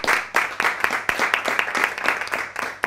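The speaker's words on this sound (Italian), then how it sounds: "quanti applausi questa sera" A studio audience at an Italian television broadcast gives steady, continuous applause, a thick patter of many hands that carries on throughout.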